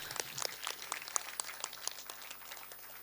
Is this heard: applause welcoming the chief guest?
yes